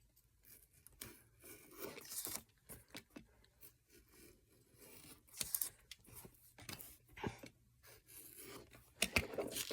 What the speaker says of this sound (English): I'm going to cut around this little envelope here